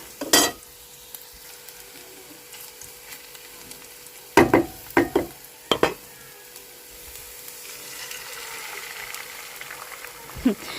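An egg fries in a pan with chili, giving a steady soft sizzle. A few sharp utensil clinks against the pan cut through near the start and middle.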